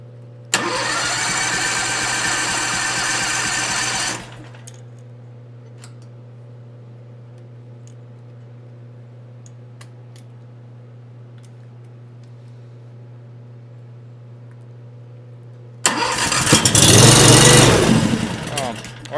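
A small engine on a homemade log splitter, jump-started from a booster pack, cranks and runs loudly for a few seconds, drops to a low steady hum, then roars again near the end.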